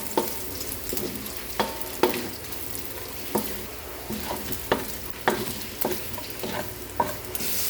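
Garlic and onions sauté in a hot pan, a constant sizzle broken by repeated sharp clacks of a spatula stirring against the pan at an irregular, roughly half-second pace, close and fairly loud.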